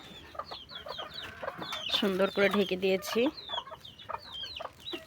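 A few hens on a small backyard farm cluck and squawk nearby in a busy run of calls, loudest midway, while a person briefly talks over them.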